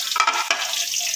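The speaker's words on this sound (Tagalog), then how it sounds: "ilalagay ko yung manok na hinimay-himay ko." Shredded chicken tossed into a hot pan with browned pork for pancit bihon, giving a brief burst of sizzling and scraping stirs, close and fairly loud, with no talking.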